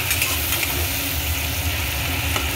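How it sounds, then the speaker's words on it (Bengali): Spice mix with Kashmiri chilli powder frying in a pan for a Bengali chhyachra with pui shak and catla fish head, a steady close sizzle with faint stirring and a low background hum. "কাশ্মীরি লঙ্কার গুঁড়ো অল্প দিয়ে দিলাম, দিয়ে একটু ভালো করে এটা কষে নেব মশলাটা।"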